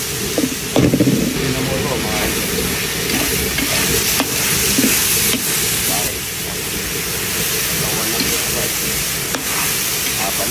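Pechay frying in a pan with garlic, onion and bacon: a steady, close hiss of sizzling with scraping stirring strokes throughout and a voice speaking at times.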